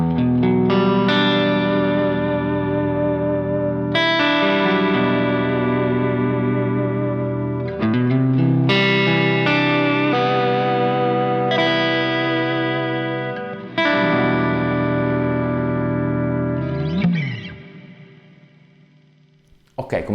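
Electric guitar through a Quad Cortex modeling a Vox AC30 clean channel with wide reverb and the expression pedal at zero plays several ringing chords, each strummed and left to sustain, with a long reverb tail at the end.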